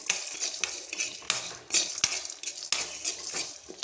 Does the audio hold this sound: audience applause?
no